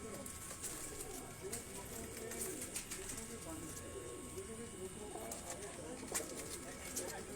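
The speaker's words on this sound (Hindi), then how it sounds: "ये वो चीने कबूतर हैं दोस्तों जिनका मैं आपको शौक करवा रहा हूँ" Chinese pigeons cooing in a rooftop loft in Lahore, soft repeated low coos from several birds close by, with occasional wing flutters and sharp clicks.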